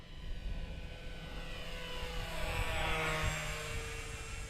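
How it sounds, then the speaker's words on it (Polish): A Skipper light propeller plane drones steadily overhead in winter, its engine humming at an even pitch with a slight rise in loudness midway. "ten silnik daje taki ciekawy dźwięk"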